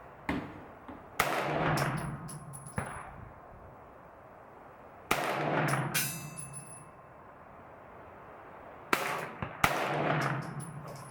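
Ruger PC Carbine fired at a 25-yard range, single sharp gunshots spaced several seconds apart, loud and close, each followed by a short ringing tail over quiet outdoor background.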